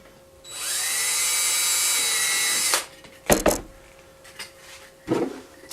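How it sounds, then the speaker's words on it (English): A power drill bores a hole in an X-wing pilot costume helmet, whirring steadily for about two seconds at close range, then stopping, followed by a few sharp handling knocks and clunks. "drill a hole right here,"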